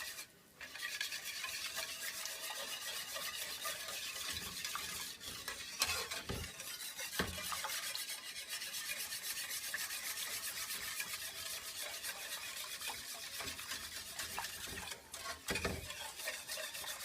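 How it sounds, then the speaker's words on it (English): Green Thai curry ingredients are whisked together in a pot over medium heat, a steady scraping, stirring swish that runs continuously with a few brief knocks, fairly close and with no talking. "I'm just whisking this all together now."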